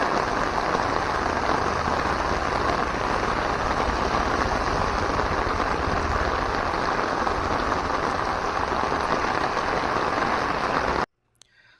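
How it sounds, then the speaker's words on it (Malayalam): Heavy monsoon rain at Kollur Mookambika pours steadily and loudly in front of a guest house, a dense continuous roar of drops hitting surfaces that cuts off abruptly near the end. "നല്ല അടിപൊളി മഴ"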